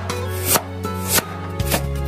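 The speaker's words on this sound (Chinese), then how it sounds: "接着再把胡萝卜切成薄片" Knife slicing a peeled carrot into thin slices on a cutting board, a few crisp chopping knocks at an uneven rhythm over a steady background hum and soft music, close and clear, with no talk.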